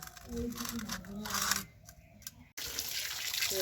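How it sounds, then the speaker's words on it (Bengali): Hilsa and silver carp fish being washed under running water: a splashing, gushing stream near the mic that drops away briefly and then returns, with a few clicks and a voice speaking at times. "মাছগুলো ভালো করে ধুয়ে নিই। এগুলো সিলভার কাপ আর এগুলো হচ্ছে ইলিশ মাছ। ভালো করে একটু ধুয়ে নিই।"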